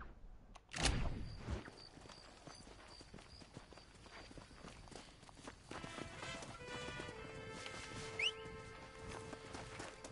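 Horse hooves clip-clop in Red Dead Redemption 2, a run of footfalls over game ambience after a loud thump near the start, with faint camera-like clicks and tonal game sounds joining later.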